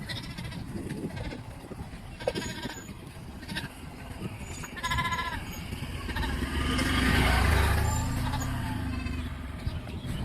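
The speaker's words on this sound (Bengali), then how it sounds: "এই যে ছাগল ভেড়া বান্ধিছে এটাই, কত ছাগল।" Goats and sheep tied up in a rural Bangladeshi village bleat now and then at a moderate distance. Faint outdoor rumble and a passing engine sit underneath.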